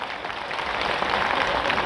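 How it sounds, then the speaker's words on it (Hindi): Energetic applause from an audience at a business gathering, a thick steady roar of many clapping hands, near and unbroken, growing slightly louder as it goes. "जबरदस्त तालियां हो जाए।"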